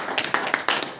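An audience at a leadership training meeting claps in several loud, uneven bursts that cut off quickly between strikes.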